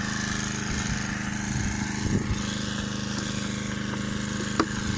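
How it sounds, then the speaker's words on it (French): A Honda HR-21 lawn mower engine runs at a steady, close, moderate idle, a continuous low mechanical drone with a brief knock near the end. "Ça, c'était de la tondeuse."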